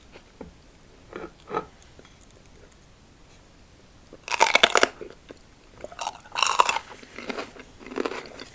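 Orange mini bell peppers with dip are bitten and chewed close to the mic, with soft early crunches, then two loud, crisp bursts of crunching and further chewing, with no talking.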